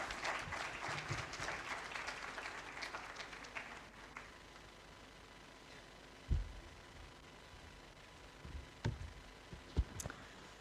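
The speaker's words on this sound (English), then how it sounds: "let's welcome Justice Aisha Malik with another round of applause on the stage" Audience at a South Asian inclusive justice symposium applauding as a justice comes to the stage, moderate clapping for about four seconds that fades into quiet, with a few isolated thumps afterward.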